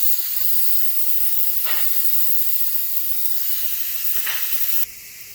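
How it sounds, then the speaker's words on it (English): A quick cooker vents steam during pressure release, giving a loud, steady hiss that carries on for about five seconds before it suddenly drops. A couple of faint clicks sit under the hiss, and no one speaks. "I always turn my quick cooker sideways to release the steam."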